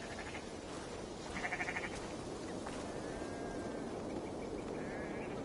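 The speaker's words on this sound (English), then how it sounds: "What has this sheep eaten?" Sheep bleating in a Viking-era video game, a few faint, wavering bleats over a steady hiss of ambient outdoor game sound with some insect-like buzzing.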